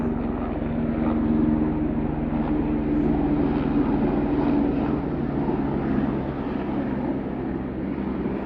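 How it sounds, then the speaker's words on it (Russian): A helicopter's steady, droning engine hum with a low throbbing beat hangs overhead for the whole stretch, distant but constant, with no voices, heard outdoors among spruce trees in autumn. "Вертолет, скорее всего."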